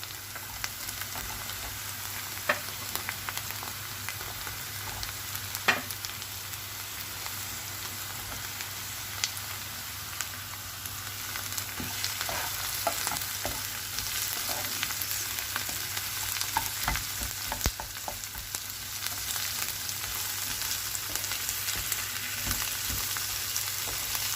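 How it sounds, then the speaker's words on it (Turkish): Onions sautéing in a pan for a leek dish, a steady broadband sizzle with scattered crackles and occasional scrapes of stirring, close and even throughout with no voices. "Pembeleşene kadar kavuruyorum. Evet, soğanlarım kavruluyor."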